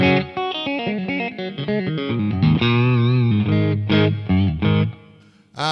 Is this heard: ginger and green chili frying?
no